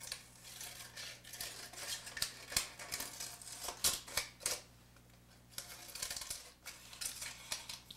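Scissors snip out a star shape from paper in a series of close, crisp irregular cuts with short pauses between bursts, no one speaking.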